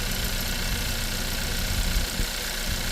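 A vehicle engine runs with an off-balance, sticking turbo, giving a loud, steady idle drone with a rough low rumble and a continuous hiss, nearby and with no voices.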